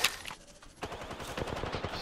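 Rapid gunfire from a video game battle royale firefight, a dense burst of shots that eases briefly then resumes as quick repeated cracks, loud and close with game noise around it.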